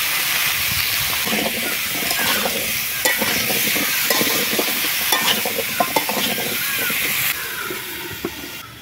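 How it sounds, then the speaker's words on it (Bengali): Steady sizzling of pumpkin and potatoes frying in hot oil with salt, with occasional stirring clinks, continuous and close, quieter toward the end. "লবণ দিচ্ছি, লবণ দিয়ে ভাজবো।"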